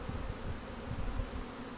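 Honeybees buzzing at an opened hive during a hive split. The hum is a dense, continuous low drone with swelling pulses, close and steady, with no talk.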